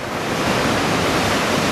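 Ocean surf breaking at Anglet beach: a loud, steady roaring wash of waves with no voices, filling the whole stretch with broad rushing noise.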